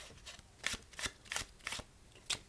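A deck of playing cards being shuffled, heard as five or six crisp riffling bursts in quick, uneven succession, close and fairly quiet, with no talking.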